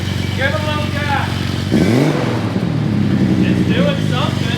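A deep, loud off-road 6x6 engine roars to life and revs up with a big rumbling exhaust, voices talking over it.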